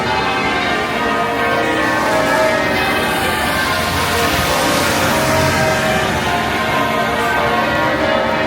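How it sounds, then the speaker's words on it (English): Church bells of St Paul's Cathedral peal continuously, a dense wash of overlapping tolls ringing loudly outdoors without pause. "The bells, the bells!"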